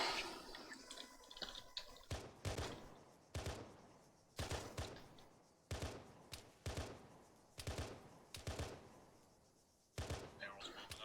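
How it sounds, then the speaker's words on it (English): Bursts of suppressing gunfire in a military video game, loud sharp volleys repeating every second or so over a steady background, with a stretch of quieter ambience at the start. "providing suppressing fire"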